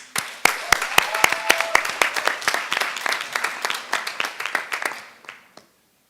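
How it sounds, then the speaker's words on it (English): An audience greets a poet at a student social-change event with a round of applause, sharp claps building quickly into steady clapping that gradually thins out and stops toward the end. "I'd like to welcome with a big emphatic round of applause, Miss Kishana Kiki West"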